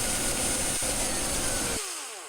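Close, loud whir of a drill spinning a 3D-printed pin coupling and flywheel, holding steady, then the motor stops and the pitch slides down as the flywheel coasts.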